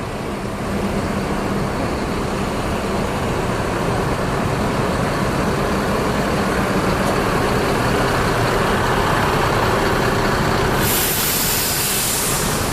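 Loud, steady engine rumble of an ANS intercity bus idling at Kampung Rambutan bus terminal in Jakarta, a constant dense drone held throughout with a brighter hiss rising near the end.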